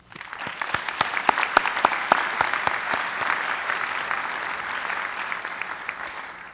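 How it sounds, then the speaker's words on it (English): A commencement audience at a university school of education applauds, with dense clapping building quickly and staying strong, a few sharp nearby claps standing out early before the sound settles into a broad, steady ovation. "I would like to give a round of applause and thank each and every one of them."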